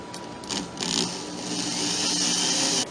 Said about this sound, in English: I will be drilling using a 5/64 inch drill bit, which is short enough as to not go all the way through the wood